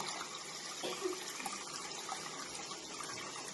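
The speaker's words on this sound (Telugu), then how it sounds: "ఇప్పుడు వాటర్ పోస్తున్నాను ఇందాక తీసుకున్న గిన్నెతో రెండు గిన్నెలు" Water pours steadily into a pot of rice for mutton biryani, a faint continuous splashing stream with a few small clinks, quiet and close.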